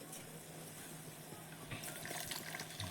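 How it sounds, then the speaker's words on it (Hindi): Milk is poured into tea simmering on a stove, a soft liquid splash and trickle that rises partway through over a low, steady background hum. "ये रहा दूध डाल दी हूँ मैं चाय में।"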